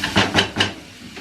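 Sliced peppers and mixed vegetables stir-frying in a wok, three short bursts of sizzling hiss with faint clatter, close and loud, then fading quieter.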